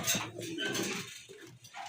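Pigeons at a bird market coo in a short, close, murmuring burst.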